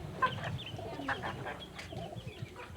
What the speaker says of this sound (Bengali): কি ব্যাপার মুরগি ভয় পাইতেছে